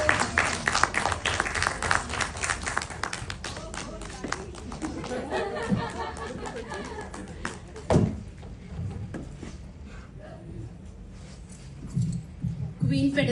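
Audience at a poetry recitation during a literature festival gives scattered applause mixed with crowd chatter and talk, loud at first and then thinning toward a murmuring room.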